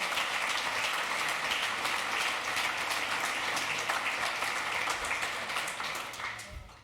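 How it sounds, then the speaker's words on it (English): Conference audience at a TYPO3 developer event applauding steadily, a dense, continuous wash of clapping that holds for several seconds before tapering off at the end. "So now we have clapped enough,"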